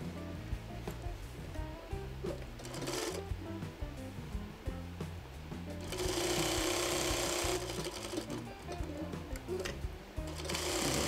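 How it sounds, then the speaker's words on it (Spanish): A sewing machine stitches around a fabric face mask, running with a steady rapid mechanical chatter that swells and eases over several passes, close and continuous with no talk. "es pasar un pespunte alrededor de la mascarilla"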